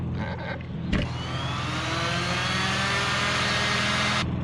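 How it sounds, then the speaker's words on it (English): A random orbital sander smooths a fir support post with a steady, loud whirring drone that starts with a bump and runs continuously close by. "So I'm going to clean it up with this random orbital sander."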